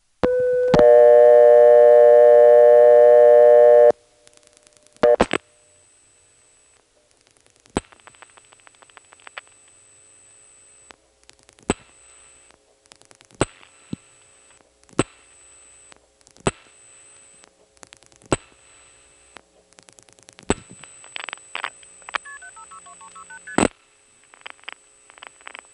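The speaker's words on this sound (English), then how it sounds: "we get to hear 7 digits of MF as we call over to Hooker Road" MF telephone trunk signaling on a 1977 Carolina Telephone NX1 step-by-step exchange in Farmville, NC: seven quick, faint tone pips near the end. Before them come a loud steady tone and scattered sharp switch clicks over near silence.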